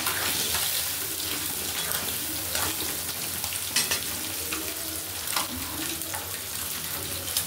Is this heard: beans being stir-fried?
yes